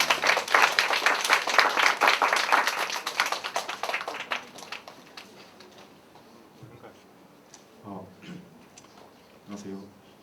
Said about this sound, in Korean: 나오실 때 뜨거운 박수 부탁드립니다.